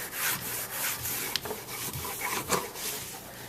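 A wet paper towel wipes yellow glue off a wooden checkerboard in soft, repeated rubbing strokes, close and fairly quiet, with a couple of sharper scuffs.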